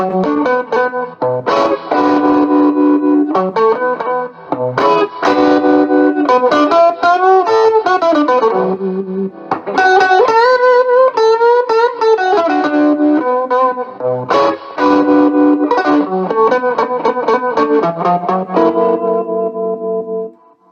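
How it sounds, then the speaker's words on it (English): A 1975 Fender Super Reverb amp plays electric guitar chords and melodic phrases, tremolo at its slowest speed making sustained notes pulse slowly in volume with a wavering, effected tone. No voices. "Here's the tremolo at the slowest speed."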